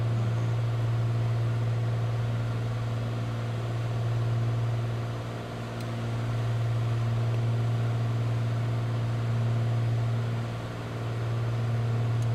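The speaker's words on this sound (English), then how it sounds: "I need to turn the engine down on this, it's too noisy." Simulated aircraft engine from Microsoft Flight Simulator 2020, a constant low droning hum with a faint hiss above it. It runs steady and unbroken for the whole stretch, dipping only slightly twice.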